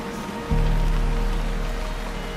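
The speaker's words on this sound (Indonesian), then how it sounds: "Dan ini pemandangannya gunung semua dan hujan deras banget." Heavy rain falls in the Tirol mountains near Brixen, a dense hiss of drops on surfaces joined by a sudden low rumbling surge halfway through that continues to the end.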